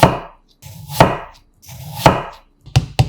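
A knife cuts a peeled potato into 0.3 cm slices, each stroke giving a crisp slicing sound that ends in a sharp thud on the cutting board, about five cuts at uneven intervals, close and loud with no talking.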